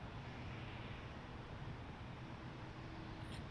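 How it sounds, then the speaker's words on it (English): A Boeing 787-9 Dreamliner taking off at Toronto Pearson Airport makes a faint, distant, continuous low jet rumble with a broad hiss, steady throughout the short stretch. "That's a 7879 Dreamliner."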